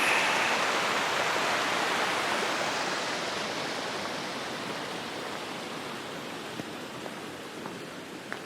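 Lava Creek rushing along a trail in damp weather, a broad, steady roar of flowing water heard close by that softens slightly over the stretch, with no voices.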